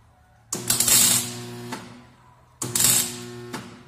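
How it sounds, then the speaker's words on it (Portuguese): Tack welds joining a steel tube sliding gate: two separate crackling, buzzing arc bursts, each lasting just over a second with a short pause between, fairly close and loud with no talking. "Pontinho de solda do lado"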